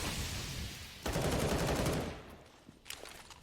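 Grenade blast in a Counter-Strike pro match between Astralis and Navi, a broad burst that swells at about one second and rumbles for a second before fading into scattered game noise.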